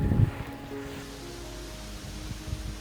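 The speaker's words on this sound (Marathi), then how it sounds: "काय वारा सुटलाय." Wind gusting through a Konkan village at Koloshi, Devgad, just after monsoon rain, heard as a low, steady rumble buffeting the microphone, with a stronger gust at the start and softer surges later.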